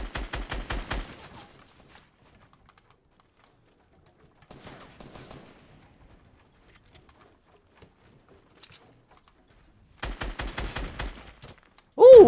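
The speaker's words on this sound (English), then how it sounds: "Ooh, double headshot with the scar." SCAR rifle fire in Fortnite: two quick bursts of rapid shots, one at the start and one near the end, with a few faint, distant single shots in the quiet stretch between.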